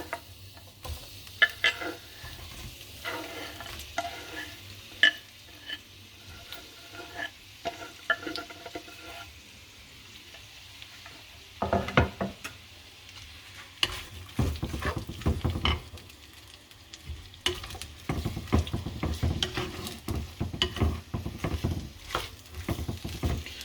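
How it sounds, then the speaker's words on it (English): Thinly sliced onions go into sunflower oil in a pot and sizzle, with stirring and scraping clatter growing busier over time, close and moderately loud. "So I'll first put the thinly sliced onions. That goes into the pot."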